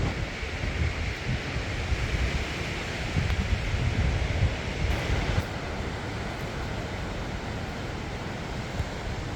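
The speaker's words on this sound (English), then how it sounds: "It's a very windy day, very windy today." Strong, steady wind roaring outdoors in open countryside on a stormy day, a continuous loud rumble with gusting buffeting against the microphone throughout, no voices.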